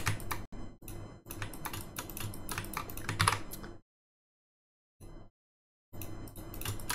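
Rapid, dense clatter of typing on a computer keyboard, close and steady, broken by a couple of short silences and a few isolated key presses near the end.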